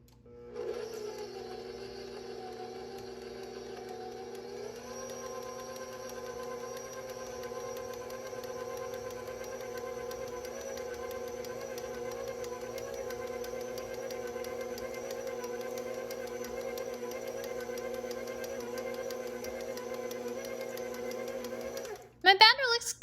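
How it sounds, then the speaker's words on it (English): An electric mixer runs steadily and close through chocolate chip cookie dough, a continuous motor hum that rises in speed after a few seconds and holds until a clunk at the end. "I'm going to mix these until all of the dry ingredients are incorporated."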